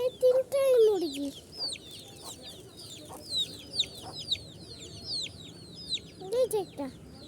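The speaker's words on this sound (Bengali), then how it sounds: "জানেন, অনেকগুলি মুরগি আছে।" Several chickens cluck together: a drawn-out call opens, followed by a run of quick repeated clucks and murmurs from the flock, nearby and moderately loud, with a voice speaking among them.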